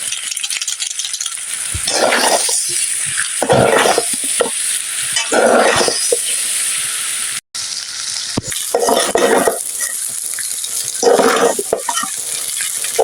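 Noodles with Maggi masala frying in a pan, a sizzling bed broken by repeated bursts of stirring and scraping about every two seconds, close and fairly loud with no talking.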